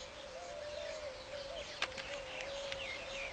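Faint weaver bird calls, a thin steady whistling tone with a few sharp chirps scattered over it, heard at a distance without any talking.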